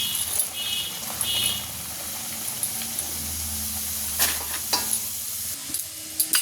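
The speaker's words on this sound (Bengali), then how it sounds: "এখনও লুচি ভাজতে বাকি আছে বন্ধুরা।" Luchi (puri) frying in hot oil, a close, continuous sizzle and bubbling hiss with occasional sharper crackles and clinks from turning them over.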